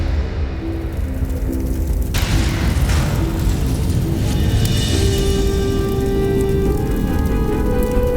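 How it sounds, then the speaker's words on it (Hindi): Fire weapons exploding in a burning armory, a loud booming blast with crackling bursts and rumbling debris that continues at full strength after the initial hit. "विस्फोट हो जाएगा अग्नि अस्त्रों में।"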